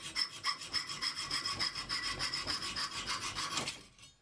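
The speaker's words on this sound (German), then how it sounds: "Einige Winkelverbinder müssen an 2 Kanten aufgetrennt werden." A hand saw cuts through steel angle brackets in a rapid, even back-and-forth rasp, about a dozen close, loud strokes before the blade stops abruptly.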